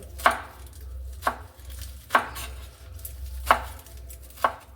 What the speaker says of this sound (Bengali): এইভাবে করে কুচি কুচি করে কেটে নেব